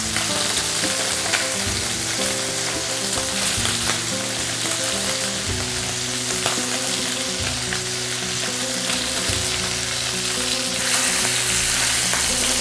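Bacon and chorizo stir-fry in a pan for pasta paella, a steady dense sizzle and crackle with occasional stirring scrapes, close and continuous throughout with no talking.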